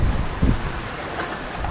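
The sailboat Jade runs under sail at sea in a 15–17 knot breeze, with a steady rush of wind buffeting the microphone over the sea's wash and a brief heavier gust near the start.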